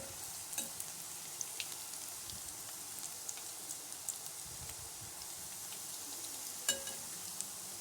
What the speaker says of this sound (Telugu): ఇది మంచిగా గోల్డెన్ బ్రౌన్ కలర్ వచ్చేంత వరకు కాల్చుకోవాలి.